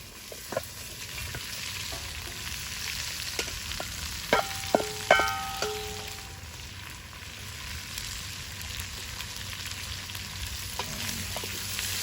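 Onions frying in a pan for lecsó give a constant close sizzle, broken by a few quick stirs with metallic clinks and scrapes of the utensil, no talking.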